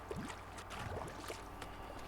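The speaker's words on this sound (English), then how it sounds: "Looks my horse can swim much better than me." Horse swimming through water in the video game Biomutant, a steady wash of splashing and sloshing with soft rippling strokes, continuous and moderately close with no talking.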